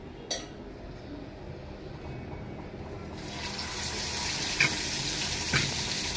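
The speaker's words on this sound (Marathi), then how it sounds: "मोठे काळे मासे फ्राय करायला घेतले." Large black fish fry in hot oil, a steady broadband sizzle that swells partway through and holds loud and close, with a couple of faint clinks of a utensil.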